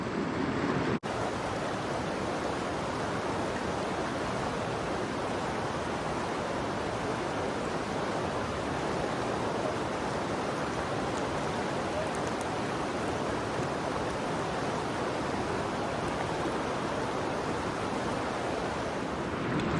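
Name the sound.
river water flowing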